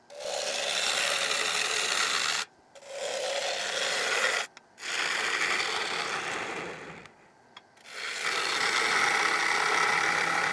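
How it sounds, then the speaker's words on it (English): A Thompson 19 mm bowl gouge cuts a mango crotch dish on a wood lathe. Four long, steady rasping cuts sound loud and close, separated by brief pauses, with no talk. "This is a Thompson's tool, 19 millimeter bowl gouge."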